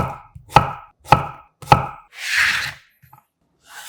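A knife slices zucchini into thin pieces on a cutting board, four crisp, evenly spaced close chops followed by softer scraping and shuffling.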